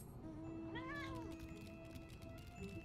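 A cat meows in Final Fantasy XIV: one clear, rising-and-falling meow near the start, heard over soft game background sound.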